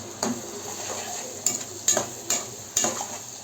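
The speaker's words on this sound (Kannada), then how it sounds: "ಜೀರಿಗೆ ಹಾಕಿ ಚೆನ್ನಾಗಿ ತಿರುಗಿಸ್ಕೊಳ್ಳೋಣ" Cumin seeds frying in oil in a pan for raw mango chitranna, a soft constant sizzle broken by four or five sharp metallic scrapes of a spoon stirring against the pan, close and without talk.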